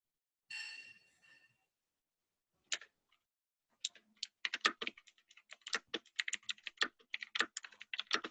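Rapid typing on a computer keyboard during an online team meeting, a brief burst of keys early on, then a dense, irregular run of close clicks and key taps continuing to the end, with no talk over it.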